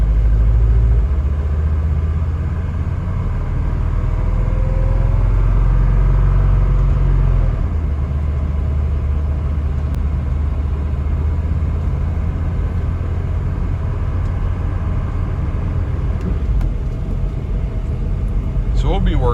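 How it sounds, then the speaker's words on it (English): A 1979 Mercedes 300D W123 diesel car idles with a steady, low rumbling engine note that runs throughout, close and fairly loud. "It's quiet. As quiet as a diesel is going to be."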